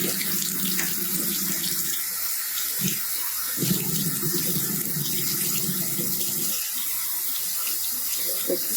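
Tap water runs steadily into a sink to rinse rock tumbler grit after a wash cycle, with brief changes in flow as the stream is moved or interrupted, close and continuous with no talk.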